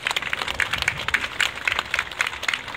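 Crowd at a railway depot open day applauding after a turntable demonstration rotating a KiHa 85 Wide View diesel train, steady scattered clapping from many hands, moderately distant and continuous.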